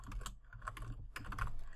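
Quick, close typing on a computer keyboard while statistics code is entered, a busy run of soft key clicks in uneven bursts with no talking.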